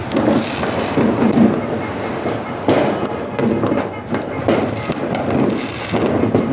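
New Year firecrackers and fireworks go off outdoors as a string of sharp, loud bangs and crackles, each burst leaving a rumbling echo. Scattered background voices sound faintly between the blasts.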